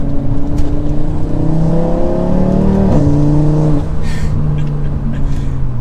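A 2024 Audi RS3 with all-wheel drive powers hard out of a turn, its engine note loud and close, rising and shifting in pitch as it accelerates, with wind and road noise beneath.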